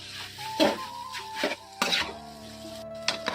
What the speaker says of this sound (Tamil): லைட்டாக இப்படி மிக்ஸ் பண்ணிக்கணும்